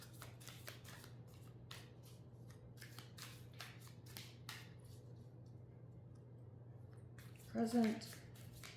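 Tarot cards are shuffled by hand in a series of soft, quick riffling bursts, fairly close and quiet, over a low steady background hum, with someone briefly speaking near the end.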